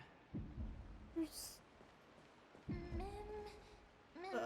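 A heartbeat sound effect in the video game Honkai: Star Rail gives two deep, heavy thumps a couple of seconds apart, each fading out, while a voice talks and brief tonal game chimes play.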